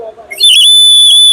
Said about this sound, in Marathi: ही शिट्टी मी बालाजीला घेतली होती.